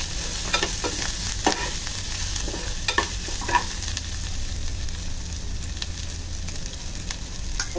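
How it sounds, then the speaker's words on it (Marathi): Onion, ginger and coriander sauté in a pan for a Kadaknath chicken curry, giving a steady close sizzle broken by repeated scraping stirs of the spatula, with no voices. "लाल होईपर्यंत आपल्याला कांदा परतून घ्यायचा."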